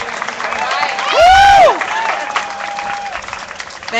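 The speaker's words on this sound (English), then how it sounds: "Let's give SEIU a big hand." Rally crowd applauding a union speaker at a No Coal in Oakland protest, with cheering and loud voices over the clapping. A clear voice rises above the crowd briefly.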